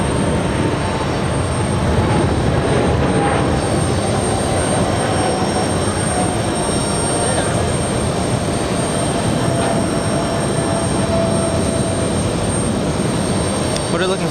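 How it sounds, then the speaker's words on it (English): A Turkish Airlines Boeing 777 with GE90 engines powers up for takeoff at JFK Airport, a steady loud jet roar with a sustained high whine that holds for the whole stretch while people talk underneath. "We have Turkish 2 flying to Istanbul, 777 powered up by GE90s."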